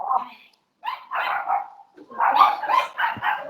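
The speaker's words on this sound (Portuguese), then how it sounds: "Querida, Pastora, vê se vocês dão um jeito aí nos cachorros" Dogs bark in a few short bursts at close range, a pause and then a quick run of loud yaps and yips, with no speech over them.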